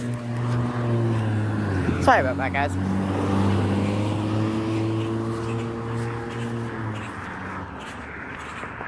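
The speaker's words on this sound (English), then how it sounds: "Okay, now I know I hear a car coming up." A car engine roars steadily nearby, its low rumble holding for several seconds, while a person speaks briefly over it.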